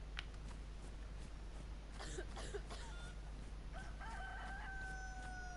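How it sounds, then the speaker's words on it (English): A rooster crows in DayZ, one drawn-out cock-a-doodle-doo ringing out clearly over a low steady background hum, followed by a couple of shorter clucking calls. "One fucking cock-a-doodle-doo as you run away."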